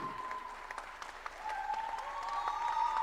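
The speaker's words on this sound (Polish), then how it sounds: "Wielkie brawa dla Marcina, zróbcie." Applause from a seated audience for the runner-up at a Polish barista and coffee-in-good-spirits championship final, steady clapping with a faint tone running beneath and no one speaking.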